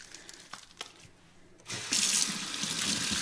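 Running tap water splashes steadily over hands being washed in a sink. It starts after a quiet opening, then continues as a loud, close rush.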